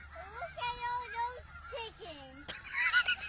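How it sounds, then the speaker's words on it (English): Fowl honk and squawk from a short viral video played back, somewhat faint and thin, with a voice speaking over the calls. "Look at all those chickens."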